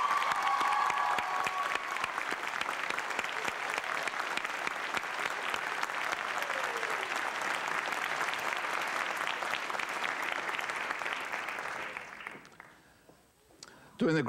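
A large graduation commencement crowd breaks into loud, sustained applause for the gathered families, with voices mixed in, holding steady for about twelve seconds before fading out abruptly.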